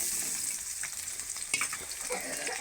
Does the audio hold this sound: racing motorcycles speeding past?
no